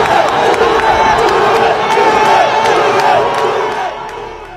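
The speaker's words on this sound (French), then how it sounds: "Le stade qui exulte." A football stadium crowd roars in celebration after the first goal of the match, a dense, loud, sustained wall of cheering and shouting that holds steady before easing slightly at the end.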